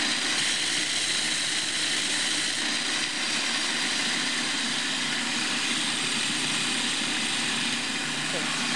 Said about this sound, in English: I love when I can make cookies in a food processor like this.